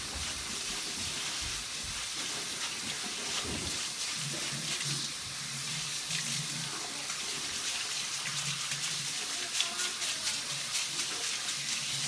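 Running water rinsing rice in a bowl to wash off the starch: a steady, bright hissing stream from a faucet with faint sloshing underneath, continuous and close, no talking.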